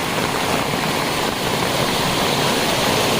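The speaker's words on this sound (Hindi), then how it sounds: "अपने जंगली रिजॉर्ट के गेट पे कैसे पानी आ रहा है" Heavy rainwater rushes past the gate of a jungle resort, a hillside stream surging along the wall; a loud, steady, close roar of flowing water fills the whole stretch without pause.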